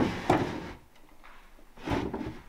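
An old wooden drawer in an abandoned hotel slides open with a loud, close, scraping wooden rumble, then a pause before another rough sliding scrape.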